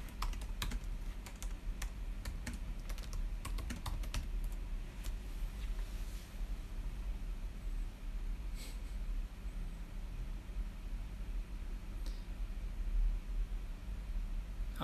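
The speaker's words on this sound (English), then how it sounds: "Try type something." Computer keyboard typing heard as a cluster of light keystrokes early on, then sparse clicks, all under a steady loud hiss of background noise, with no talking.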